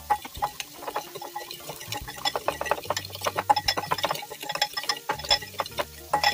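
A spoon stirs a small batch of burger sauce made with sugar, salt and vinegar in a dish, giving quiet repeated clinks and scrapes in an uneven rhythm under soft background music.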